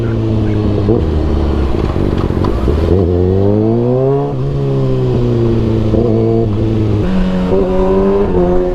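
A Kawasaki ZX6R motorcycle engine pulls loud and close under throttle, its pitch rising through repeated revs with brief dips at shifts, a continuous high-revving whine heard from onboard.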